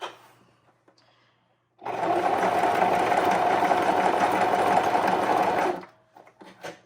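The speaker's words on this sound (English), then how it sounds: "I'm just going to sew this one straight across" A sewing machine runs a straight seam across burlap fabric, whirring steadily and loudly for about four seconds after a quiet start, then stopping abruptly.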